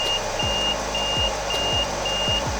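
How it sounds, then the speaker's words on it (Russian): A Tecmen TM 1000 PAPR blower unit on a welder's belt, its filter fully clogged, sounds a steady series of evenly spaced high electronic beeps over a constant motor hum, with soft low thumps between them. "после полной загрязненности фильтра, блок начнет издавать звуковую сигнализацию и вибрировать на поясе у сварщика"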